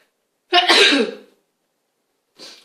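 A single loud sneeze up close in a quiet room, a sharp burst that fades over about a second, followed by a faint short sniff or breath.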